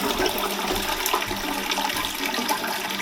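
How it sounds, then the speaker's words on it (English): A house toilet flushes with a steady rushing and gurgling of water, close and continuous, rather weak in power, with no talk. "let's flush the toilet and find out what happens"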